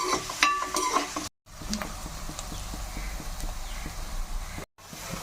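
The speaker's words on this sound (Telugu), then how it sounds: "ఇవి మనం బాగా వేగేదాకా కర్రగా వేగేదాకా ఉల్లిపాయలు తిప్పుకోవాలి" Sliced onions sizzle in a pan of hot oil while being stirred for a Nellore-style fish curry. A steady close fry carries rhythmic scraping and tapping from the spoon, with two brief silent gaps and no talk.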